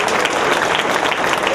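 Audience applause at a BC welfare association gathering in Andhra Pradesh, thanking a guest speaker from Vijayawada: dense, steady clapping from many hands, fairly loud, filling the whole short stretch without a break.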